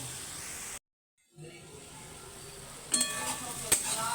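Potato and egg bhujia sizzles in a pan while being stirred over a gas flame. A brief silent gap breaks the sizzle, then steady frying resumes with a couple of sharp metallic clinks of the spoon against the pan.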